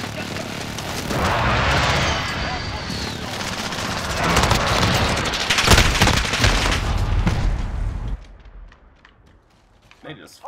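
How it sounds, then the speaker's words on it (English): Precision airstrike explosions in Call of Duty: Modern Warfare multiplayer, a loud run of booming blasts and crackling bursts over several seconds that then drops away toward near quiet. "Friendly precision airstrike inbound."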